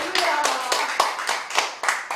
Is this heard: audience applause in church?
yes